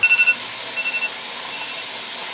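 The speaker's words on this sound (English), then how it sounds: "We have a nice steady vent of steam coming out" Steady broadband hiss of steam venting from a pressure canner during home canning, constant and even throughout, with a few faint brief beeps near the start.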